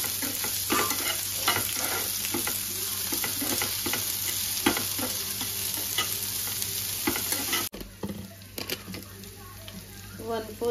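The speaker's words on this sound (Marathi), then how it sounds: "ते त्याला छान फ्राय करून घ्यायचं आहे।" Chopped capsicum fries in a pan over high gas, a steady loud sizzle with repeated scraping stir strokes throughout, the hiss briefly dropping near the end before resuming.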